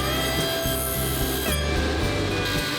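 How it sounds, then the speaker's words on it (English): A sander grinds the charred edges off laser-cut MDF gussets, a loud continuous whirring hum with rough scraping as the wood is pressed against it. "I'm gonna take them over to the sander, sand all the charred edges off"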